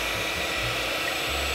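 Samu Giken handheld electric whisk beating egg whites at speed setting 1, a steady motor whir with uneven lower churning, constant and moderately close with no talking.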